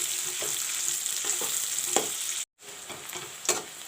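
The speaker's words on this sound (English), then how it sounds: "Put in the onions. Let the onions fry brown." Onions fry in a pan with a steady, bright sizzle and occasional soft stirring knocks, briefly cut off by a moment of silence before the hiss resumes.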